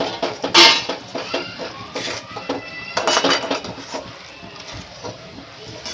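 Mandavi Pak, a peanut-based sweet, being stirred in a pan as crushed peanut is mixed into the syrup: scraping and clinking of a metal spoon against the pan in irregular strokes, close and fairly quiet, with no talk.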